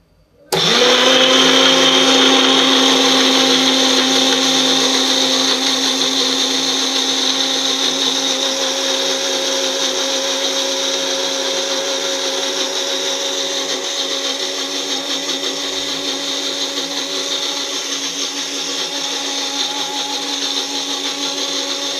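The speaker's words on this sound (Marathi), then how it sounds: "आता मिक्सरला लावूया भांडं परत चटणीचं." A Nutri-Blend mixer grinder blends chutney with a loud, steady motor whine that starts abruptly and then runs on continuously at close range, easing only slightly over time, with no talking.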